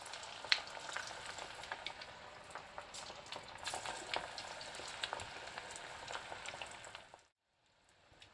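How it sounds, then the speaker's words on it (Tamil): Cauliflower pieces for gobi 65 deep-frying in hot oil over a medium flame, a steady fine bubbling crackle with scattered pops, fairly quiet and close, stopping abruptly near the end, no talk. "ஆயில் மீடியம் ஃப்ளேமில் தான் வச்சு நான் பொரிச்சுட்டுருக்கேன்"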